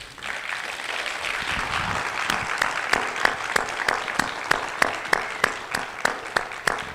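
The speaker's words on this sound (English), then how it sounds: "please give a loud round of applause and respect to Mutabaruka." An audience greets a guest speaker at a Rastafari talk with loud applause that soon settles into steady, rhythmic unison clapping, with a brief voice near the start.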